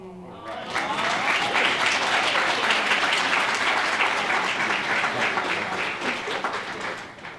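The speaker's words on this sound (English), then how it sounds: "Let's give him another round of applause." An awards ceremony audience breaks into dense, sustained applause that stays loud and steady for several seconds, after a brief voice at the very start.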